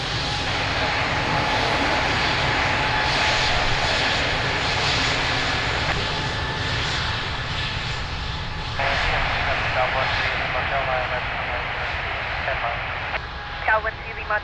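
A fixed-wing airliner climbs away on takeoff at Lisbon Airport, its engines a loud, steady roar that holds for the whole stretch with radio chatter from air traffic control over the top.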